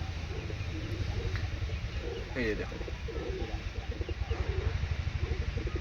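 Giribaj pigeons cooing in a loft as a nesting hen sits on eggs, with soft repeated coos and rhythmic throaty pulses near at hand while someone talks over them.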